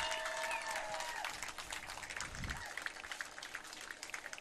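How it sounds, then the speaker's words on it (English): A crowd at a youth machine-pitch baseball world series game between Florida and South Carolina applauds the two champion teams, with sustained clapping and scattered cheers, a faint voice fading out early on. "let's give another round of applause to these 2 champions right here"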